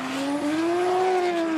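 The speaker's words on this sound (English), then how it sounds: "All he wants to do is drive his car around this track" A drift car runs around a competition track in Spain, its engine droning loud and steady with a sustained tire squeal that holds a rising, bending pitch throughout, close and without talk.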